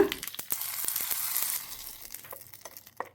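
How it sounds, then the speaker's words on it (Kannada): Mustard seeds, cumin, curry leaves and a dry red chilli crackle and sizzle in hot tempering oil for a chutney, loud at first with sharp pops, then settling into a softer, fading fry. "ಸಾಸಿವೆ, ಸ್ವಲ್ಪ ಜೀರಿಗೆ, ಸ್ವಲ್ಪ ಕರಿಬೇವು, 1 ಒಣಮೆಣಸಿನ್ಕಾಯಿ ಹಾಕ್ತೀನಿ. ಈ ಒಗ್ಗರಣೆನ ಚಟ್ನಿಗೆ ಹಾಕ್ಬಿಡೋಣಂತ."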